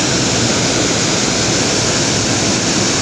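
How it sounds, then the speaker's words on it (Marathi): Water roars out through the seven opened automatic gates of the Radhanagari dam, a dense, loud, unbroken rush that fills everything for three seconds with no other sound standing out. "आज धरणाचे साती स्वयंचलित दरवाजे खुले झाले आहेत त्यामुळे भोगावती नदीत दहा हजार क्युसेस विसर्ग पाण्याचा सुरू असून"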